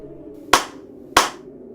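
Two sharp single hand claps, about half a second apart, ring out clearly against a quiet room tone with a faint low hum underneath.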